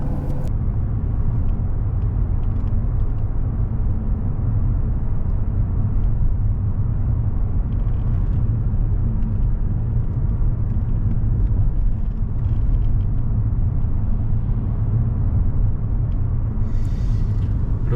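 Steady low engine rumble and road noise from a Mercedes CLS driving through corners, holding an even level throughout with a faint tick near the end.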